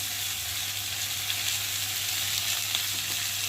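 Fish frying in a pan with chopped tomato and spices, a dense continuous sizzle close and loud for a few seconds, with stirring and no talk.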